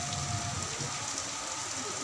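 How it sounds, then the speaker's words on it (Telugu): Heavy rain falls at a hilltop temple, a dense, even hiss of drops pattering on surfaces, fairly faint and continuous with no voices. "ఫుల్ వర్షం"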